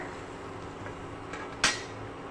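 A metal ladle or slotted spoon scoops fried ginger out of hot oil into a dry vessel, with one sharp metallic clink against the pot rising above a quiet kitchen hiss.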